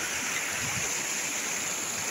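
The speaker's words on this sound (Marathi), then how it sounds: "अँड दिस इज राऊतवाडी धबधबा" Rautwadi waterfall, a steady broadband rush of falling water heard from close by, continuous and even with no voices over it.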